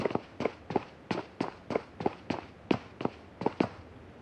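Footsteps on the floor below in the mobile game PUBG Mobile, heard as about a dozen evenly spaced muffled thuds in a quick steady walking rhythm, with no voices.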